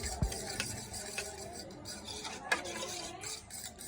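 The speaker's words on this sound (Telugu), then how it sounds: "ఇంకా బాగా కలుపుకుందాం" Egg fried rice ingredients being stirred and mixed, with soft scraping and light clinks of a utensil against a bowl, close by and quiet, no talking.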